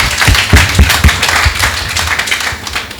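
An audience claps at a televised French magazine talk show on language learning, with loud, close applause from a small group and individual sharp hand claps standing out, fading slightly toward the end.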